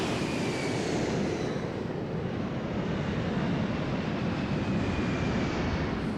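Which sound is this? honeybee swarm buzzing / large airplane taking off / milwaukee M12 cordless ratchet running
large airplane taking off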